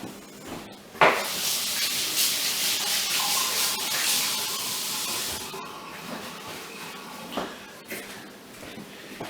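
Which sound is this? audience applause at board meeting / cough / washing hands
washing hands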